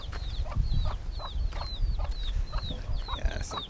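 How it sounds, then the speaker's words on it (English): Chickens on a farm in Barbados cluck and chirp repeatedly in a busy, rhythmic chatter close by, with a low rumble of outdoor background noise. "Yeah, some chickens there."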